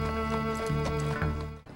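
A horse neighs and hooves clatter in a period racehorse setting, the whinny rising over a dense steady layer of sound before cutting off sharply near the end.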